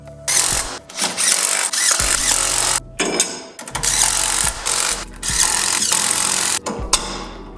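Repeated bursts of a power tool torquing lug nuts on a Polaris Pro XP hub, each whirring, rattling run lasting about a second or two with brief pauses between, loud and close.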